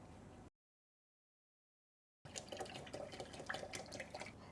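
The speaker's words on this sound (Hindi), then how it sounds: "अब हम पानी लेंगे," Water poured into a container while preparing a hand-casting mix, a soft splashing trickle that begins after a brief silent gap and continues steadily with small drips, close by and quiet.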